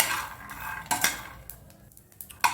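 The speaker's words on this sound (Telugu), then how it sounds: "ఫ్రెండ్స్ చూసారా, పల్లి బాగా వేగుతుంది." Peanuts roasting in a pan on the stove, clattering and scraping with a few sharp metallic knocks as they are stirred, close and fairly loud with no talk.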